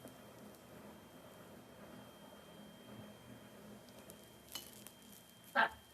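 Chopped onion sizzling in a pan of oil for a home breakfast of poha, a steady soft frying hiss with a faint clink near the end.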